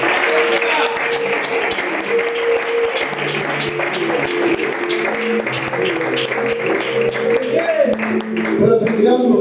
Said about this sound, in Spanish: Dale ese aplauso a Dios.